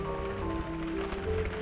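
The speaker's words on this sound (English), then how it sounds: "Oh! Rain!" Rain falls on leaves in a 1932 film soundtrack, a steady, dense patter and hiss that holds evenly throughout, with faint sustained tones running underneath.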